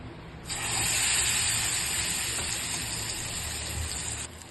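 Spicy kaara appam batter hits hot oil in a pan, giving a loud, steady sizzling hiss that starts suddenly and holds for about four seconds before cutting off.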